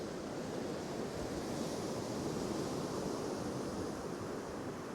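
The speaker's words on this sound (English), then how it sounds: "Now that's the waves." Continuous North Sea surf on a Northumberland beach washes in a broad, steady roar with no breaks, waves rolling onto the shore nearby.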